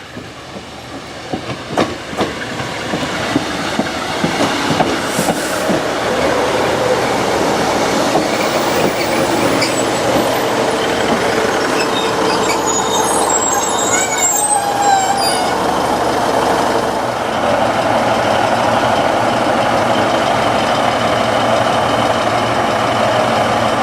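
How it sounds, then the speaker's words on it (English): A northbound train rolls into a station with a loud, steady rumble, rattling wheels and faint squeals of brakes as it slows alongside. "the northbound train is pulling in now."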